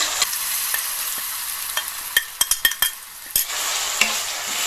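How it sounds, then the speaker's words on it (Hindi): Turmeric and ginger roast in melted ghee in a heavy-bottomed kadhai over low heat, a steady close sizzle broken by a series of sharp scraping taps from a spoon stirring the pan. "घी पिघल जाने के बाद धीमी आंच पे ही हम हल्दी को और अदरक को दोनों को भून लेंगे"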